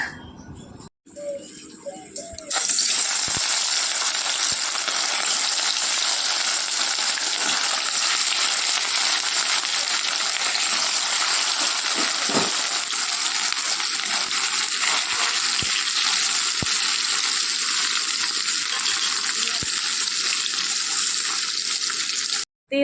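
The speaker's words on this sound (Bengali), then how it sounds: "গরম করে মাছ ভাজাটা বসিয়ে দিলাম" Fish pieces fry in hot oil in a pan, giving a steady, loud, hissing sizzle that starts abruptly and runs unbroken for about twenty seconds before cutting off.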